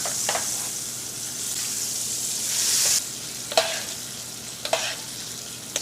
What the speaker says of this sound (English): So we're going to take that butter, we're just going to baste the steak.